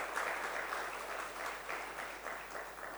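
An audience at an electronics industry award ceremony in a hall claps steadily, dense applause that holds at an even level throughout without any talk.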